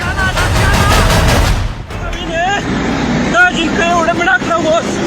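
Rapid gunfire crackles in dense bursts during election clashes in Pakistan-administered Kashmir, loud at first and then giving way to shouting voices and scattered sharper reports.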